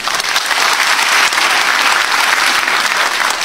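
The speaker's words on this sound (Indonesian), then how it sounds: "Boleh tepuk tangan." An audience at an Indonesian comedy show bursts into loud, close, continuous applause. The dense clapping holds steady throughout with no talk over it.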